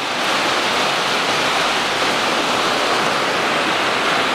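A brake fluid reservoir from a Hyundai Elantra 2.0 is washed under running water, producing a loud, steady hiss and splash that continues without break, close to the listener and with no talking.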